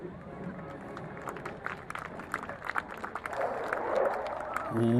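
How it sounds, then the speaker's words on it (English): Excited applause and crowd noise from a live studio show audience builds into a dense wash of clapping, with a voice briefly audible near the end. "Applause with excitement."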